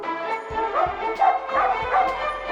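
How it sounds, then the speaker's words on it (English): A dog that helps children cross the road at a crosswalk gives several short, sharp barks and yips in quick succession, close and fairly loud, with a whining edge between them. "doesn't hesitate to bark at those who don't respect crosswalk"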